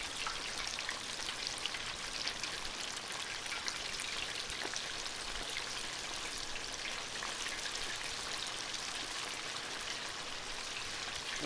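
Buttermilk-battered chicken wings fry in hot oil at around 350 degrees on a Blackstone griddle, giving a dense, steady crackling sizzle that holds even throughout, with no voices.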